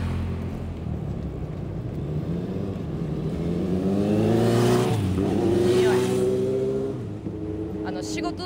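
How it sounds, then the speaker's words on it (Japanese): A motorcycle rides past at a Yokohama fireworks display, its engine note climbing and falling as it goes by, fairly close and steady over crowd noise and murmuring voices. "違うか、普通のバイク。"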